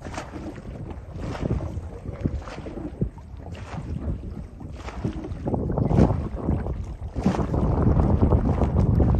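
Steady wind and low water rumble around a moored trawler waiting for the tide on a tidal river in Bangladesh's saltwater region, continuous and fairly close, with no talk.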